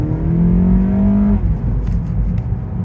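A car engine fitted with a Corksport intake revs hard and climbs in pitch, holding a loud, rising drone before dropping back to a rough idle in a parking lot.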